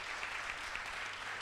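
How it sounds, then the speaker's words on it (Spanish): A crowd at a curvy fashion model event applauds briefly, a faint, distant wash of clapping that lasts only a moment. "un fuerte aplauso"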